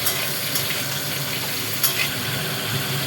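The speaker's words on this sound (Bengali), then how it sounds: "ফুলকপি ভাজার মধ্যে অল্প নুন দিয়ে দেবো। এবারে ভেজে নেবো আবার।" Cauliflower florets frying in oil with a little salt, a steady close sizzle with faint bubbling and occasional brief crackles throughout, no talking.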